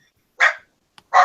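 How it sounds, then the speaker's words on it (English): Dogs bark outside, heard through open windows: two sharp, loud barks about a second apart with a faint click between them and silence around, no talking. "Dogs are going crazy. It's because I have the windows open."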